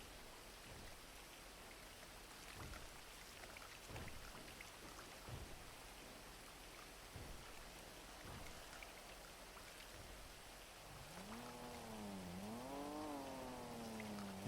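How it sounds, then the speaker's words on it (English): Steady rainfall patters in a GTA roleplay game on NoPixel, with scattered soft thumps through the downpour and a wavering tone rising and falling near the end. "Oh, this rain is fitting."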